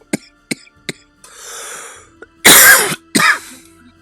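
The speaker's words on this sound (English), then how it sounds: "Yeah, I start coughing." Several short throat-clearing coughs from one person close up, followed by a harsh drawn-out exhale and two loud, raspy coughing bursts, with no talk.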